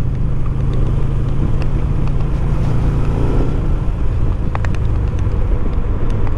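A car driving around Windsor, Ontario on a sunny day, with a steady low road and engine rumble throughout, a continuous close drone with a few brief faint clicks and no talk.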